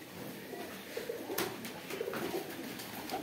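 Pigeons at a pigeon farm coo softly and steadily, a low throaty burbling that repeats without pause, with faint rustling around them.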